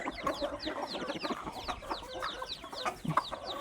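Laying hens at a rural village home in the evening cluck softly and steadily, a busy overlapping chatter of short calls heard at a modest distance and fairly quiet.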